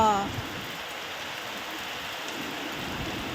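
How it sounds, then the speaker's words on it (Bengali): Heavy rain pours down during a morning storm, a dense, steady roar of falling water close by that holds at an even level throughout with no voices. "যেমনি ঝড় তেমনি বৃষ্টি"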